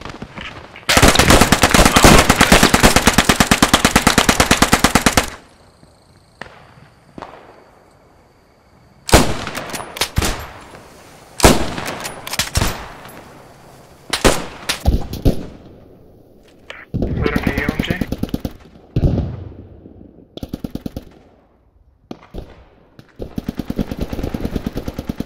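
Machine gun fire in the World War II shooter Post Scriptum, with long loud sustained bursts and shorter volleys of sharp shots, some close and some distant, continuing through most of the stretch.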